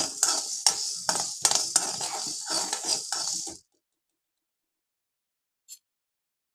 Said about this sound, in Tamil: இந்த முந்திரி பருப்பும் பாதாம் பருப்பும் லைட்டாக வறுத்துக்கலாம்